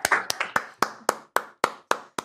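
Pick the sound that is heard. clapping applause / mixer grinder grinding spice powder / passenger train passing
clapping applause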